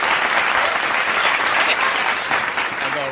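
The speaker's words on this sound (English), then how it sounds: "Please, give it a hand clap." A studio audience breaks into dense, steady applause, many hands clapping together at close range, holding loud and even for about three seconds with no voices rising above it.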